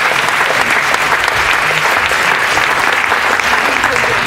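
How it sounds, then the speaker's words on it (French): An audience at the opening of a summer ecology conference in Lorient claps, a loud, continuous wash of applause from a large crowd, close and steady throughout, with a voice faintly under it. "Je pense qu'on peut l'applaudir"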